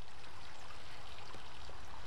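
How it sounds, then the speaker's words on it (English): A small homemade backyard waterfall gives a steady, even rush of falling water, continuous and fairly close, with no voices over it. "Look at that waterfall."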